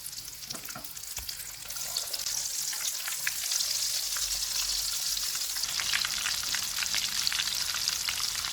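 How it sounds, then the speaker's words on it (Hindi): Aloo daal tikki kebabs frying in hot oil over a medium-low flame, a dense, steady crackling sizzle that grows fuller after the first couple of seconds and holds close and loud, with no talking. "कबाब फ्राई हो गए हैं, इनको निकाल लेते हैं।"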